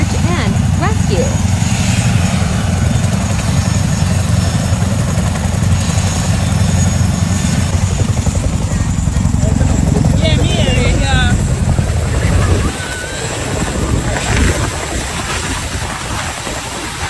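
A helicopter collecting search-and-rescue troops makes a loud, steady rotor and engine roar with voices under it, then drops off sharply near the end and goes on more faintly.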